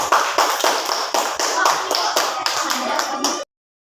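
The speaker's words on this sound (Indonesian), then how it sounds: "Tepuk tangan semuanya" Classroom applause with hands clapping in quick, evenly spaced bursts, roughly eight or nine rhythmic group claps close by, cutting off abruptly after about three and a half seconds.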